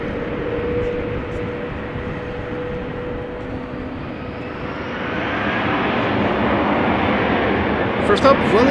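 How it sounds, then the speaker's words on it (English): Steady broadband roar of a Delta airliner's jet engines at Amsterdam Schiphol Airport, growing louder and fuller midway through, with faint voices underneath. "I think that's the engines of this Delta that we were hearing."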